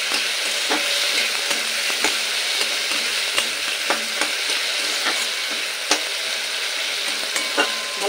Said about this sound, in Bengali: এবার আদা আর লঙ্কার গুঁড়ো ভালো করে আলু আর টমেটোর সাথে কষিয়ে নিই।